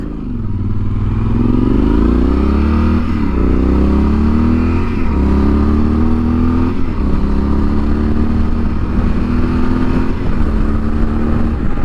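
A 2016 Yamaha Super Tenere motorcycle engine revs up steadily through the gears, loud and close, the pitch rising and dropping with each shift as it speeds along a highway.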